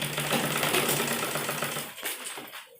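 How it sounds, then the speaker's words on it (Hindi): A sewing machine stitches a churidar pajami, a close, rapid mechanical whirr running steadily before slowing and fading out near the end, with no talk over it. "फिटिंग के ऊपर ही हम सिलाई दे रहे हैं।"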